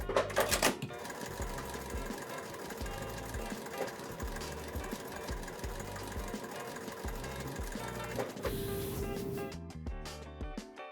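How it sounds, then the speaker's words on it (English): A sewing machine stitches a 2.5 inch square to a quilt corner piece in a steady, fast mechanical rhythm that runs close and loud for most of the stretch, then stops near the end. "use that to now sew my corner piece together"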